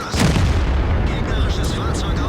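A tank cannon fires in World of Tanks as a heavy booming blast at the start, with the low rumble rolling on and a few faint metallic clanks above it.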